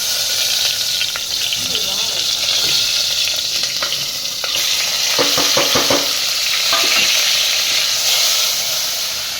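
Eggplant goes into hot oil with asafoetida in a home Gujarati kitchen and sizzles steadily, with a loud, continuous frying hiss and quick scraping stirs in the middle.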